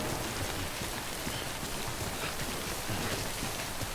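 Steady rain in the Death Stranding video game, a dense, continuous hiss of drops pattering evenly over ground, close and constant with no voices.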